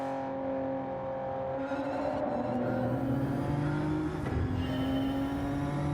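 The engine of a Toyota Alphard in a racing video game drones steadily in a tunnel, with tones shifting up and down as it revs and changes gear, at a moderate, even level.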